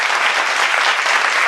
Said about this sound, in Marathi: जानकी मॅडमसाठी एकदा जोरदार टाळ्या.